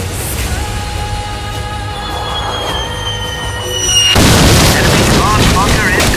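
A heavy boom erupts midway through a game scene of bombs dropping on an enemy command bunker, following a stretch of rising whistling tones and steady engine drone, then leaving a loud rumbling roar.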